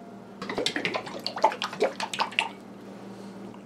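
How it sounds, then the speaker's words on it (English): A short splash and gurgle of water poured into a fake blood mixture, close and brief, then quiet. "I'll add a little bit of water."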